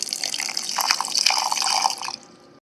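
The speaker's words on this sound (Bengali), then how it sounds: "সামান্য একটু জল দিয়ে দিচ্ছি" A little water poured into a mixer jar holding fried cumin and coriander, a brief close splashing trickle that stops abruptly after about two seconds.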